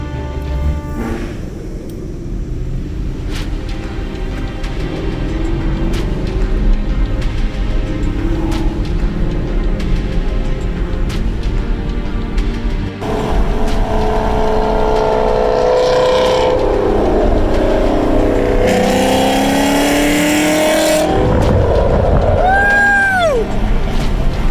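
Ford Mustang GT fitted with Stainless Works headers revving hard on a dyno, a loud continuous engine roar that climbs and surges over about 25 seconds, with brief shouting near the end.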